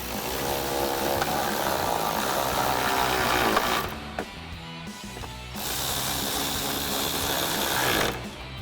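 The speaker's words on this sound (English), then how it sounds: "we're going to grab our 8mm socket on our ratchet" A ratchet with an 8mm socket, probably powered given the steady whir, runs in long bursts with brief pauses while driving fender liner screws back into a Jeep Wrangler JL, close and continuous with no talking.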